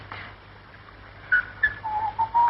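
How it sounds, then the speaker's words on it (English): Someone whistles a few short, pure notes, then a longer sustained tone, close by over a faint low hum. "Oh, do stop whistling."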